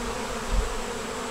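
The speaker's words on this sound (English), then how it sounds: "And this is the bee coming in on the bottom." Honeybees buzz at the entrance at the bottom of a hive in a nursery apiary, a steady close drone with a brief swell as one flies in.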